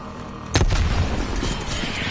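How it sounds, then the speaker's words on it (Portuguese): A grenade blows up in a video game as a sudden loud boom, with a rumbling low tail fading over the next second and a half. "Lançando granada."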